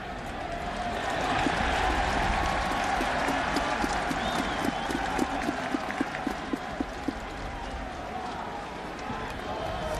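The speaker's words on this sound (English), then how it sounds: "Rutgers players are clapping" Crowd clapping at a 2000 Miami vs Rutgers college football game, a steady broad wash of applause and stadium noise with some sharper claps standing out, mixed with faint voices, for the full stretch.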